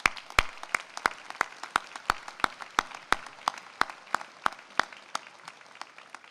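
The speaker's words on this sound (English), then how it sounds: "Give yourselves a round of applause for such a terrific achievement." At a Wharton MBA for Executives graduation ceremony, sharp hand claps ring out in a steady, evenly spaced rhythm, about twenty in all, fairly faint and roomy, with no voices on top.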